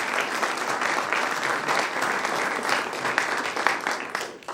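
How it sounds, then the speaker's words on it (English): Crowd at a food drive kick-off event applauding, a steady, full wash of clapping from many people that holds evenly before fading at the end. "Please give her a round of applause."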